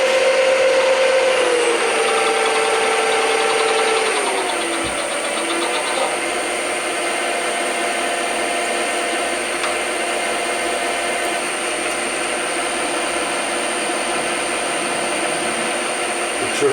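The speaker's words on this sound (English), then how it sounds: "Let's just bore it." A machine bores a 6 mm hole 50 mm deep, a steady loud mechanical whine and hum with a tone that drops in pitch early on and then holds constant as the cut continues.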